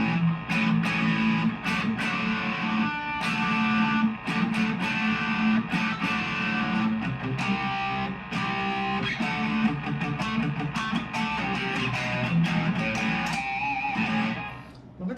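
A Fender Telecaster-style single-coil electric guitar plays a continuous run of chords and notes, shifting between clean and distorted tones, with a bright, gritty edge, loud and steady throughout.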